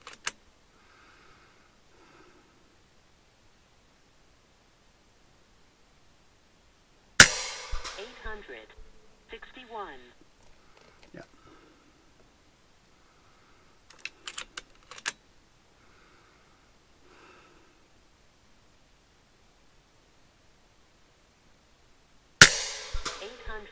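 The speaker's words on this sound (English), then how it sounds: "So just taking a warm-up shot and then going for it." Three sharp, isolated shots from an FX Impact M4 air rifle fired down a 100 m tunnel, each a loud crack trailed by a short echo, separated by long quiet gaps with a few faint clicks and handling noises between them.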